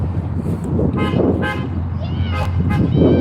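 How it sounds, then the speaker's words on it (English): Car horns toot in short harmonic blasts, several honks spread over a few seconds at a street protest, over steady road traffic and a voice talking. "Somebody from Colorado honking."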